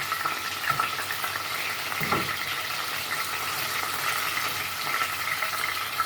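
Chicken wings fry in a pan with a steady, close sizzle and crackle, broken by a single soft clunk partway through.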